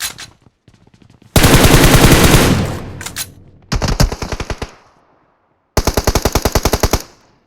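Loud automatic gunfire in the video game PUBG, several long rapid bursts and rattling volleys separated by short pauses, close and harsh with brief quiet gaps.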